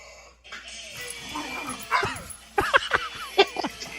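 Dogs bark and whimper up close in a quick run of yips, whines and short barks that grow busier toward the end, with faint background tone underneath.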